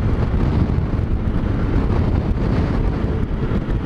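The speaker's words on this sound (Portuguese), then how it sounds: "E o vento aqui tá grande." Strong wind buffeting the microphone on a canyon road, a loud, continuous low roar with gusty swells and no talk.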